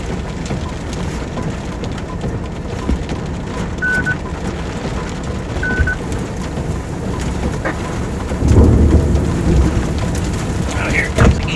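Thunder rumbles through a steady downpour during an April thunderstorm in Ohio, heard from inside a storm-chasing vehicle, with a louder low rolling swell near the end over the constant rain.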